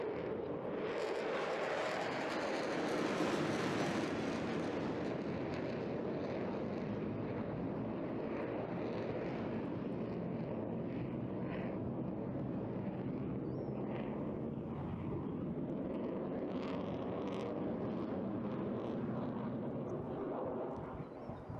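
A jet aircraft at an air display roars steadily overhead, a broad continuous engine rumble with a slow swelling pass, loud and sustained with no talk.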